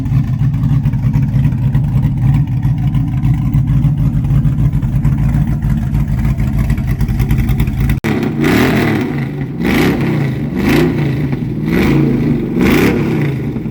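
A Chevy S10 with a 5.3 V8 and an exhaust running without mufflers idles with a deep, loud rumble, then blips the throttle in four or five sharp revs.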